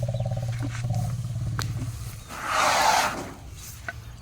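A deep rumbling elephant call builds into a loud, breathy trumpet-like roar, heard close in an outdoor setting with low background hum.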